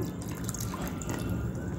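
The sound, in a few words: water poured into semolina and curd batter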